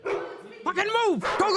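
A dog barks and yips during a film shoot, a few short strained barks mixed with someone shouting commands over it at close range.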